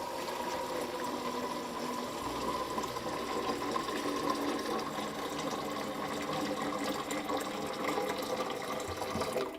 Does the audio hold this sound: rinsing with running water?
yes